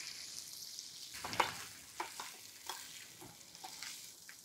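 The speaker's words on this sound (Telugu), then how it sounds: "పచ్చిపోయేదాకా కొబ్బరి వేయించేసేయండి." Grated coconut fries in oil alongside chillies in a pan for South Indian coconut rice, giving a soft, steady sizzle broken by light taps and scrapes of the stirring spoon, close but quiet.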